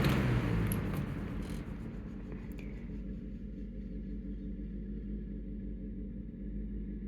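A 1989 Lakewood box fan on medium spinning down after being switched off: a low motor hum and airy whoosh that fade from louder at first to a quieter steady rumble, with no talk.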